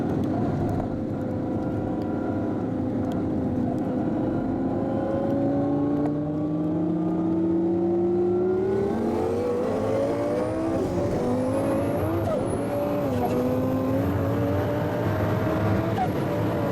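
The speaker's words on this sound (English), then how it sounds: "turbo bike, 290 horsepower against underground racing Gallardo" A 290-horsepower turbo motorcycle races an Underground Racing Lamborghini Gallardo, the engines roaring loud and steady with rising, sweeping revs as the machines accelerate hard, and a high whine builds near the end.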